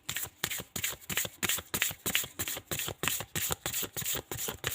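Tarot cards being shuffled by hand, a close, rapid series of crisp riffling flutters in a fast uneven rhythm, clear and uninterrupted by speech.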